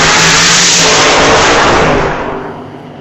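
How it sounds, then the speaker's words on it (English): Old-time drag race cars roar at a full-throttle rev and launch, the engine noise loud and close before fading slightly as they pull away down the strip. "Pre-stage bulbs are lit, both sides. Here comes the RPM. Howland's in, now Harder."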